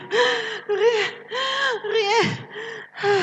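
A woman gasps and pants in a run of strained, voiced breaths that rise and fall, loud and close, with about six heaving bursts over a few seconds.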